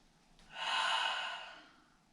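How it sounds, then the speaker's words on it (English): A single slow breath through the nose during a yoga hips and twists flow, soft and close, swelling and fading over about a second with no talk. "Breathing in and out through the nose."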